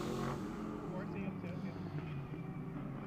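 Ferrari GT race car on a qualifying lap at Las Vegas Motor Speedway, a continuous engine roar at moderate distance with a shifting pitch, running under a commentator talking.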